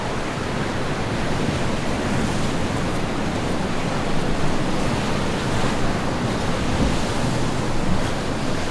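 Steady ocean surf washes in continuously at Laguna Beach, California, a broad rushing roar with wind noise and no voices.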